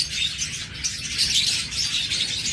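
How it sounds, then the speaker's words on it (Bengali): A pair of Fischer's lovebirds, a creamino opaline and an albino, chirp in a rapid, continuous stream of high, bright twitters close by, with no voices. "চমৎকার এই ক্রিমিনো ফিশার অপালাইনের সাথে রয়েছে অ্যালবিনো ফিশার জোড়াটা"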